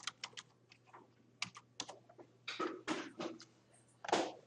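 Keystrokes on a computer keyboard as a job search is typed in, a quick run of close, crisp clicks followed by a few heavier strokes like the enter key, with no talking.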